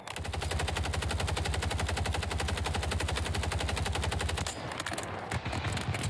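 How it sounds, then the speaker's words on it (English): Rapid automatic gunfire from a Striker 9 in Call of Duty on Rebirth Island, a loud unbroken burst of fast rhythmic shots for about four and a half seconds, then a pause followed by a few scattered clatters. "Alright, I'm ready to gun the fuck out of this guy"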